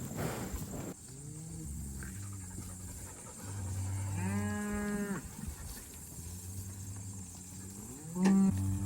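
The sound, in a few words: cows mooing while being called in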